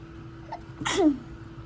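A single sharp sneeze bursts out alone, a quick rising intake followed by a loud explosive release, with a steady electrical hum underneath.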